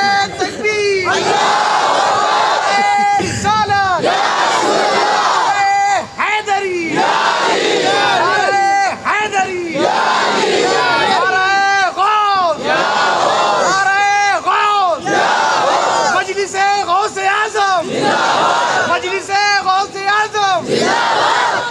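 A large crowd at a religious gathering chants slogans loudly in repeated, rhythmic call-and-response bursts, voices rising together in waves with little pause throughout.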